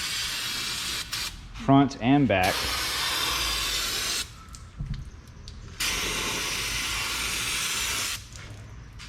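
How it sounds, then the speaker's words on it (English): An aerosol can of brake parts cleaner hisses in long, steady spray bursts onto a Honda CR-V brake rotor, with short pauses between sprays and someone speaking briefly near the start. "get yourself a can of brake parts cleaner, and you'll want to spray down this rotor"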